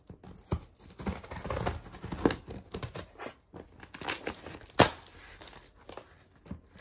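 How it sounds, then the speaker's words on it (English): Scissors cut into a cardboard shipping box amid crinkling and tearing, with irregular close snips, scrapes and rustles spread across several seconds, one sharp snap standing out, no talking. "Just going to go ahead and open the box."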